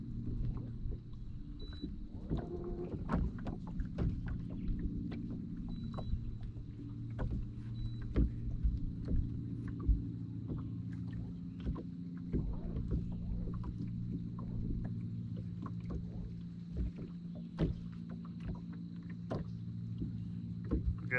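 A Minn Kota Terrova trolling motor runs on a fishing boat during crappie fishing on Cave Run Lake, giving a steady low hum with a faint high whine and scattered clicks and knocks throughout.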